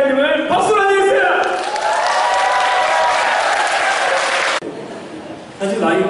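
An audience at a book concert with music applauds to welcome the author Kim Jong-won, a broad wash of clapping that swells and holds for a few seconds, with voices talking before and after it.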